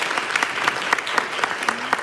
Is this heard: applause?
yes